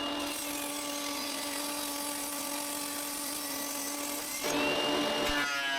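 A power saw cuts through an ash wood plank, a steady loud whining drone with a sustained tonal hum that shifts pitch and roughens near the end as the blade works through the piece.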